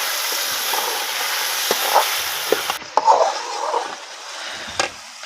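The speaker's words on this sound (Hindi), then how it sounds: "सब्जी हमारी अब इसमें डालते हैं।" Vegetables tipped into a pot of frying tadka for vegetable rice, a hissing sizzle that drops off abruptly partway through, followed by softer sputtering and a few light clatters.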